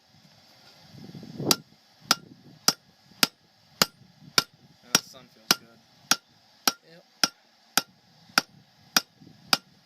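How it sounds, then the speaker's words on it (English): Regular ringing hammer blows strike hot metal at a forge about every half second, sharp and bright, while people speak briefly in the background. "So is wearing my arms out with a hammer"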